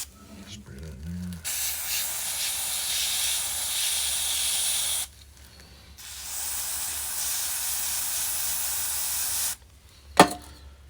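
Long hissing bursts of penetrating spray on seized bolts of a Honda Big Red ATV under restoration. Two sustained sprays each last several seconds, with a brief voice early on and a small clunk near the end.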